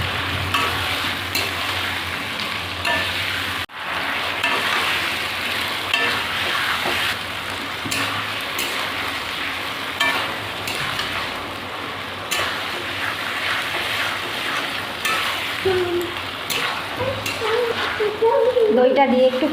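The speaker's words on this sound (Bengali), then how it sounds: "এবার দইটা দিয়ে দেবো। দইটা দিয়ে আর একটু কষিয়ে নেব।" Yogurt sizzles with pointed gourd in a hot pan, the steady frying hiss running throughout with intermittent stirring scrapes and taps, and a voice speaking now and then over it.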